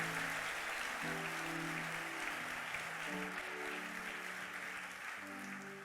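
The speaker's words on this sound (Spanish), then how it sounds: "Dale un aplauso al Señor." Church congregation applauding in a worship service, continuous dense clapping underneath sustained keyboard chords that shift every couple of seconds, moderately loud and steady throughout.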